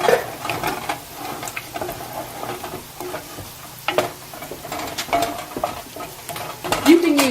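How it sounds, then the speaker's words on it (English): Drained canned diced tomatoes stirred into onions and garlic frying in a pan, a steady close sizzle with scraping and stirring clicks of a utensil against the pan throughout, no talking. "Now we're just going to add a can of diced tomatoes."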